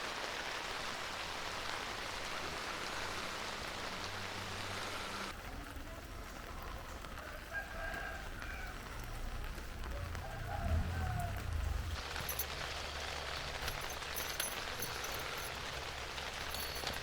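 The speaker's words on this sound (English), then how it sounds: "we also have to do the weather test? And that basically means put it out in the rain" Steady rain patters on a small-scale modular Tudor-style tiny home model outdoors, a continuous broadband hiss lasting throughout, briefly softer in the middle before returning at full strength.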